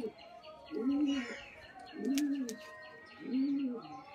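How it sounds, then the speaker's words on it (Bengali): Pigeons cooing close by, three low rolling coos at roughly even intervals, with faint chirps and background noise between them. "বড় জোড়াটা দেখুন, পায়রাগুলো দেখুন"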